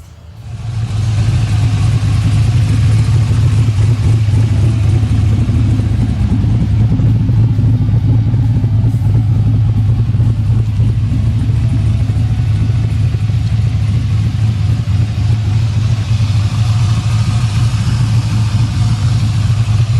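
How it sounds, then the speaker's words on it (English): A Mazda RX-7 FD3S fitted with a Corvette engine runs loud and close, a deep steady low rumble holding for about twenty seconds with slight fluctuations, no voices. "Look, behind. It has a Corvette engine."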